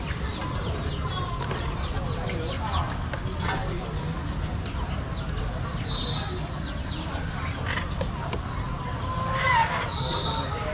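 Chickens cluck at a busy street market, a steady bustle of background noise with a few scattered squawks and calls, and voices murmur in the background.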